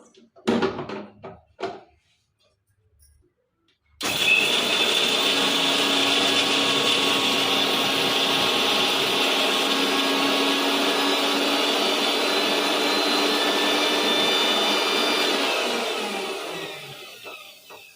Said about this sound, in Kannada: ಇದನ್ನ ತರ್ತರಿಯಾಗಿ ರುಬ್ಕೊಂತಿದ್ದೀನಿ ನಾನು